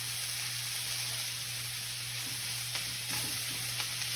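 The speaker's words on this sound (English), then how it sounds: "now that my pan's getting pretty full, I want to make sure and kind of get everything mixed in so that it all cooks down and is really coated and caramelized" Vegetable stir fry sizzling in a well-filled pan, a steady broadband hiss held evenly throughout, with a few faint stirring clicks near the end and a constant low hum beneath.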